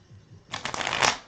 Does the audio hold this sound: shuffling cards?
yes